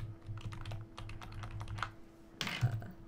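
Computer keyboard keys pressed in a rapid, uneven run of clicks while playing Life is Strange 2, close and clear, followed by a louder burst of clatter near the end.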